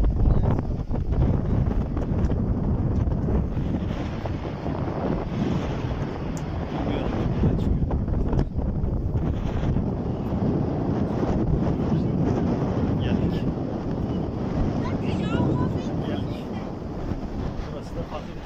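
Strong wind at Valla Canyon in Kastamonu, Turkey, buffets the microphone in a constant, heavy roar that persists throughout without letting up.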